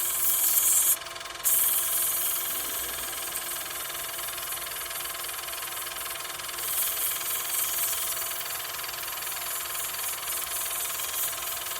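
Pen blank of Lava Lamp "Water Nymph" material spun on a lathe and sanded with 320 grit sandpaper, a steady whirring motor hum with a continuous hiss of abrasive, fairly loud and unbroken apart from a brief dip early on.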